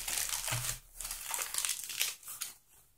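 Crinkly plastic protective bag being handled while unwrapping an AliExpress parcel, a close, loud run of crackling and rustling bursts with brief pauses between handfuls.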